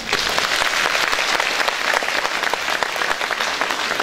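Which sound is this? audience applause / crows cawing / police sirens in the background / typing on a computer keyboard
audience applause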